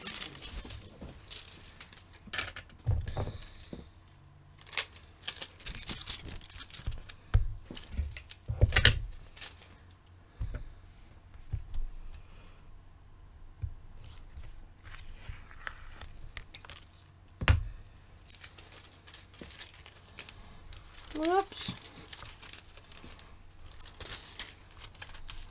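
Glitter foil is slowly peeled back from a tumbler, giving soft, scattered crinkles and tearing ticks close by, with a few sharper snaps and no talking.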